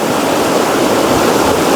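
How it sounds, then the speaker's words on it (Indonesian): The Tuntang River flowing beside a hillside Dutch cemetery, a loud, dense, steady rush of water close by, unbroken for the whole moment with no voices. "dikelilingi oleh sungai Tuntang yang terus mengalir dengan suara yang khas."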